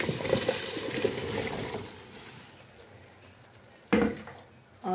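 Cauliflower is stirred into cooked minced meat and tomatoes in a pan, a close, scraping, sizzling churn that fades to a quiet simmer before a sharp clatter near the end.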